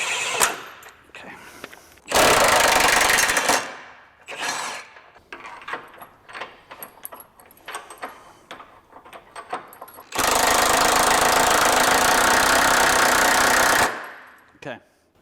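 A power tool drives a bolt into the lift on a 2017-25 Honda Ridgeline during an HRG Offroad 4.5 inch kit install: two long, loud whirring bursts with scattered clanks and rattles of metal between them.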